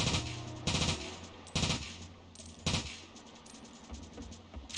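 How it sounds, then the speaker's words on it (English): Gunfire in the shooter video game 007 The World Is Not Enough, with three or four loud, separate bursts against a steady game background and no talk. "This is not exactly a long-range gun here"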